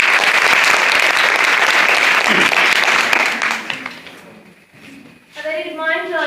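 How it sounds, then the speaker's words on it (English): An audience claps loudly for several seconds, the applause fading out before a voice begins speaking. "Give her a big clap."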